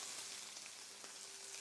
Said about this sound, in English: we'll pick our chicken up and lay it into the pan, ham side down